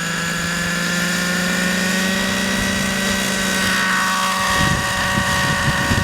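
An OS 105HZ engine on an RC helicopter runs at a steady, rich drone with strong low harmonics, then the tone shifts and roughens near the end as the model lifts off. It sounds close and loud, with no talking.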